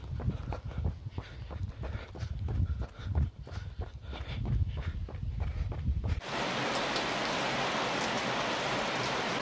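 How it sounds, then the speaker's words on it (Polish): Heavy rain pouring down on a runner: rhythmic footfalls and splashy steps under falling rain, then a sudden switch to a dense, loud, steady downpour hiss. "Straszna ulewa"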